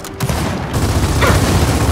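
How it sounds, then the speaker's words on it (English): Torpedo weapon blast in the video game Gears of War 4, a loud booming burst followed by sustained rumbling noise over about two seconds. "he had a torpedo. That's what that is."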